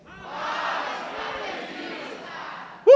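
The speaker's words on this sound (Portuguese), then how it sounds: "Palmas para vocês." An audience at a motivational seminar cheers and shouts together in a loud, sustained crowd roar, ending with a sharp burst at the close.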